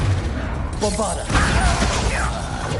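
Bombarda spell blast in Hogwarts Legacy, a sudden crashing explosion with a whooshing burst that rumbles on amid game effects and faint voices.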